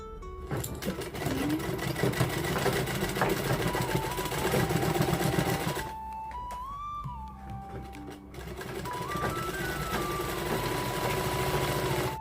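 A sewing machine stitching a petticoat made from an old nightie runs in steady continuous bursts, pausing briefly midway with a soft mechanical hum before resuming its rapid rattling drive.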